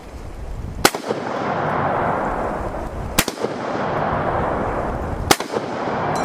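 An M1 Garand rifle firing Turkish 30-06 rounds, three sharp, loud shots spaced a couple of seconds apart, each with a sudden crack and a brief echoing tail over steady outdoor background noise.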